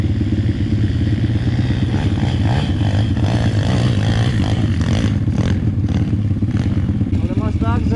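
A Pitgang 125XD pit bike engine roars loudly and continuously, revving with a rough, rattling tone throughout.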